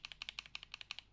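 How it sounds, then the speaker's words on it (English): Quick burst of typing on unlubed NovelKeys Cream keyboard switches, about a dozen crisp, clacky keystrokes heard close and clear with no talking. "Ooh, listen to this. Unlubed"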